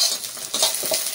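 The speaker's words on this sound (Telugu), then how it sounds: "ఇది మొత్తం బాగా దోరగా వేపుకోవాలి" Curry leaves fry and sizzle in a pan for curry leaf rice while being stirred, a steady close crackling hiss with scraping stirring strokes and brief louder bursts of spattering.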